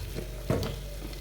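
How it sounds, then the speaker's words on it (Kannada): Chicken keema masala fries in hot oil with a steady, close sizzle, and a short louder burst of stirring comes partway through. "ಇವಾಗ ಎಣ್ಣೆ ಇದಾಯ್ತಲ್ಲ, ಫ್ರೈ ಆಗ್ತಾ ಉಂಟು"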